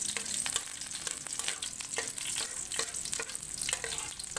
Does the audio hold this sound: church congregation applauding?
no